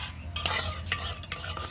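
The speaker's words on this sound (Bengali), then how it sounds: "এবারে নেড়ে চেড়ে সুজিটা খুব সুন্দরভাবে সেদ্ধ করে একটা ডোয়ে পরিণত করে নিতে হবে" Semolina is stirred over low heat in a pan as it cooks into a dough, with a spoon scraping and clinking against the metal in a few sharp strokes and a soft sizzle underneath.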